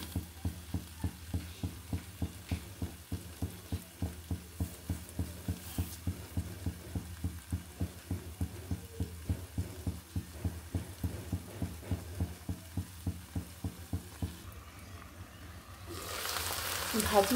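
Vegetable bhaji frying in a pan gives a low, even sizzle under a fast, regular mechanical ticking that runs through most of the clip, before a louder rushing burst near the end.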